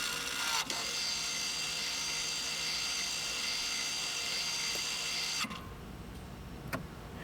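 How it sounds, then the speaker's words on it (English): Electronic parking brake on a 2020 Mazda CX9 retracting into maintenance mode, a steady whirring motor drone that runs close and even for about five seconds, then cuts off abruptly, followed by quiet and a faint click. "you will hear the electronic parking brake retract into maintenance mode"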